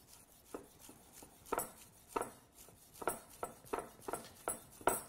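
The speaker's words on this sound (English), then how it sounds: "Take a couple of these green onions here. Just do a quick slice here." A knife slices green onions on a cutting board, a series of about ten crisp, evenly spaced chops, close and fairly quiet, with no talk.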